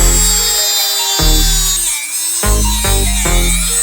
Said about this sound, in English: I'll just go ahead and cut these bolts to length